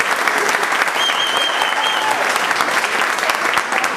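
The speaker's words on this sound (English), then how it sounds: "Let's have another round of applause for Catherine Craven." An audience at a civic gathering gives a loud, sustained round of applause, dense clapping filling the room throughout with faint voices beneath.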